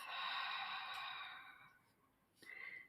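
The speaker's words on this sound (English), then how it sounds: "a long, easy breath through the mouth" A long, slow exhale through the mouth lasts about two seconds as a soft breathy hiss, then fades, followed by a brief quieter breath sound near the end.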